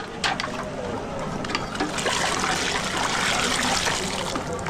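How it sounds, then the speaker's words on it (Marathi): Leftover water with dal residue poured out during a Konkan Shimga festival kitchen scene, a steady close splashing trickle that runs throughout, with faint voices underneath. "याचा पूर्ण साफ करून हा पाणी याच्यामध्ये ओतला जाणार आहे आता"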